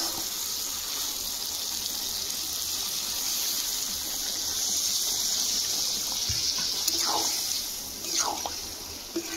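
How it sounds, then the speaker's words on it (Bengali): Water poured into a pan of potato, soybean and pumpkin curry, a steady close rushing wash of liquid that runs the whole time, with a few brief splashes and drips toward the end. "জল দিয়ে দেবো।"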